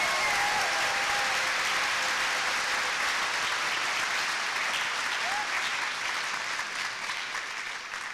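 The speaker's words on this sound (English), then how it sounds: "can we give those folks a round of applause and appreciation?" Steady, even applause fills a large hall at a university fall graduation ceremony, a full crowd clapping continuously for the event organizers before slowly easing off.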